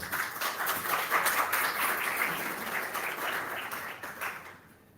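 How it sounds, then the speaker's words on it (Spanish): Audience applause at a university lecture event in Paraguay as a professor is introduced, a dense steady clapping from a full room that fades out near the end. "Un fuerte aplauso, por favor."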